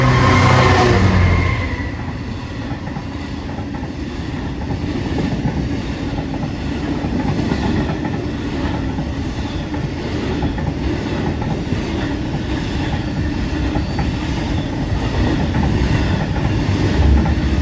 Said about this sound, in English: Next up, we've got a slow-moving freight train.